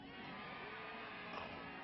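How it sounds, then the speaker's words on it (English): A lacrosse crowd at a Scotland versus Australia match cheers and roars after a near goal, a steady, distant wash of voices. "The crowd are cheering."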